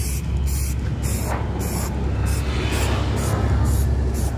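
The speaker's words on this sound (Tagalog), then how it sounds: "Yan guys, yung mga kalawang spray na natin." Aerosol spray paint hissing steadily onto rusty brake and motorcycle parts of a Rusi RS 110 being refurbished, a continuous close broadband hiss in short repeated bursts over a low hum.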